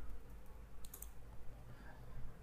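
Fingers tap quietly on a computer keyboard nearby, with a few quick keystrokes and clicks over faint room hum.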